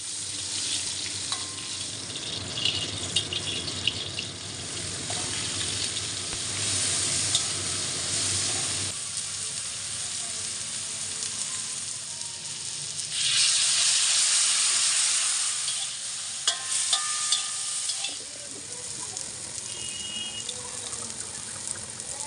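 Food fries and is stirred in homemade ghee for Eid cooking of pulao and semai, a loud, continuous sizzle with scraping stirs, occasional splashes of running water and a hiss of steam rising midway.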